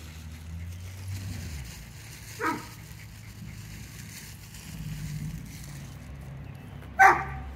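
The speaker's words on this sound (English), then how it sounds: "Who are you barking at?" A dog gives two short, sharp barks several seconds apart, fairly close, over a quiet indoor background with no talking.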